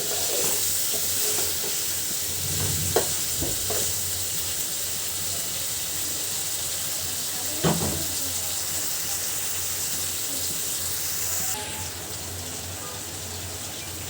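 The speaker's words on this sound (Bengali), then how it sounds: "তো আমি এবার ডিমটা সুন্দর করে মশলার সঙ্গে কষিয়ে নিব।" Eggs coated in a paste of ginger, garlic, cumin, turmeric and chili fry in a pan, giving a steady, even sizzle and hiss with a couple of faint stirring knocks, close and continuous.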